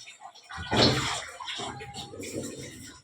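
Plates being washed and scrubbed by hand with water, a steady watery wash with scrubbing noise that swells and fades over a few seconds, close by.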